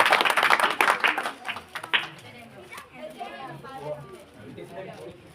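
People clapping at a Bible chapter-opening competition: a burst of loud, fast hand claps from several people that thins out after about two seconds into scattered claps and murmuring voices.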